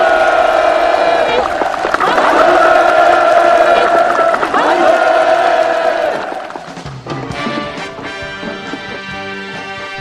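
At a village housewarming ceremony in North Korea, a large crowd claps and cheers loudly and continuously, with whoops over the applause, before it fades and music takes over.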